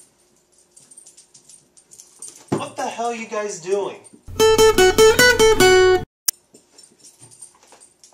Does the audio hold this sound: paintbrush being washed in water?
no